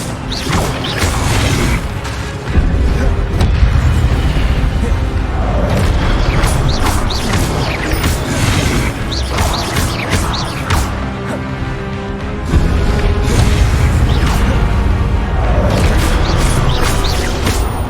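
Spell effects from Hogwarts Legacy, including disarming, levitation and fire spells, ring out as a dense, continuous stream of magical whooshes, mechanical clanks and booming impacts, loud and busy throughout with heavier bursts around the middle and end.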